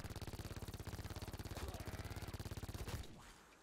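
The Spitfire gun in Call of Duty Zombies fires in one long, extremely rapid, even burst of loud shots that stops abruptly near the end, leaving a short fading tail.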